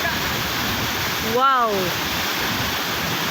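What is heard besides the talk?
Tuasan Falls waterfall on Camiguin island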